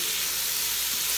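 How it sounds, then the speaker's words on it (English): Salt and cayenne pepper frying in oil in a Ninja Foodi, a steady close bright sizzle and hiss with no talking. "Fry for a minute or so."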